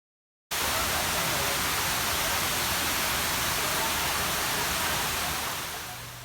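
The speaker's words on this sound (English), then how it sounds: "So this is known as the waterfall." Waterfall at a Houston attraction, a loud constant broadband rush of falling water that starts abruptly and holds steady before easing slightly at the end.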